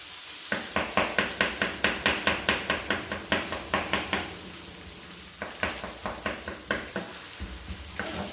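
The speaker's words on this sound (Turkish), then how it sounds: "Sarımsak kullanacağız. Bunu ince rende kısmında rendeleyebiliriz. Ben doğramayı tercih ediyorum arkadaşlar." Knife chopping garlic on a cutting board in a culinary school kitchen, with fast, steady runs of sharp taps that pause briefly and then pick up again. The sound is fairly close, and no one speaks.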